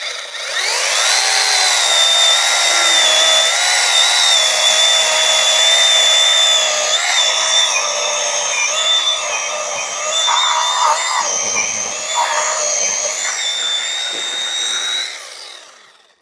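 A YUANSEN YS-12GSJ cordless mini chainsaw whines steadily while cutting through wood, its high pitch wavering slightly as the blade bites, running continuously before stopping.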